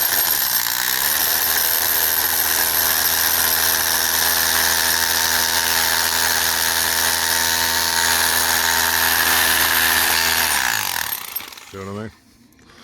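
A hammer drill pounds steadily into a proper concrete driveway under light arm pressure, loud and continuous for about ten seconds before cutting out, with a brief burst of talk near the end.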